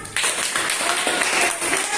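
Students in a vocational high school mathematics class clap together, a short, dense burst of hands at fairly close range that starts abruptly and holds steady for about two seconds.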